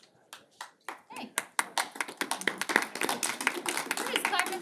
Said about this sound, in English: We're just clapping for everyone tonight.